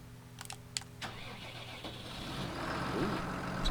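A new tractor engine cranks over with a few clicks, catches, and settles into a rising, rumbling idle close by, growing louder toward the end.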